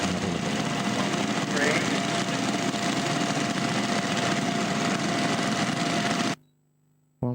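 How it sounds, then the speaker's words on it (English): MG5 tractor engine running steadily at a near, constant level for about six seconds with a faint mechanical whine, then cutting off abruptly into near silence. "That's like the tractor doing good."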